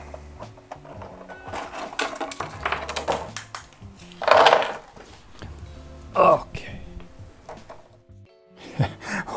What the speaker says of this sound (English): Sorry for the noise, kind of hard to get out of the packaging